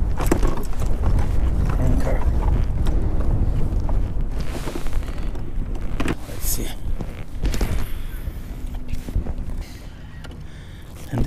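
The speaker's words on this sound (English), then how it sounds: "But the wind is killing." Gusty wind buffets the microphone in the middle of a Delaware pond on a warm January day, a loud continuous rumble from a kayak that eases slightly toward the end, with faint water sounds beneath.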